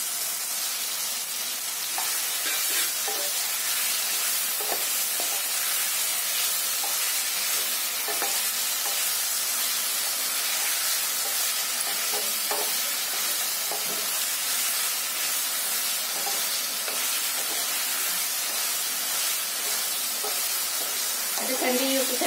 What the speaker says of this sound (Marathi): पनीर पण फ्राय करून घ्यायचं आहे